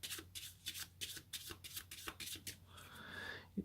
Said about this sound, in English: a basic overhand shuffle, just like this